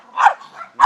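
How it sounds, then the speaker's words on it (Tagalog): A dog lets out two short, close barks in quick succession, loud and clear with no talking. "Kasi ito may mga aso ko."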